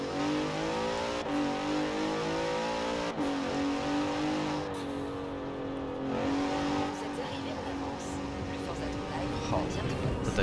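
A car engine in Forza Horizon 4 revs and accelerates through repeated gear shifts, with sharp popping backfires between rising pitches, loud and close throughout.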